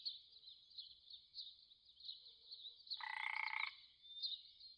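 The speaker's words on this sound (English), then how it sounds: "True frog." A true frog calls in a steady, high trilling chorus lasting throughout, with a brief louder burst of croaking partway through, moderately near with no voices.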